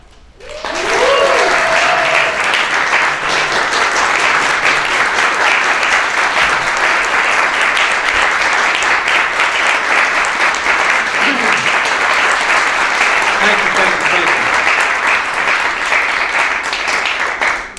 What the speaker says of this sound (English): I'm sure you're clapping because I finally showed up.